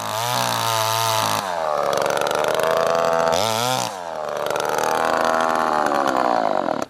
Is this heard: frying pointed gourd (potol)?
no